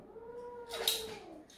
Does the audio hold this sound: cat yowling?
yes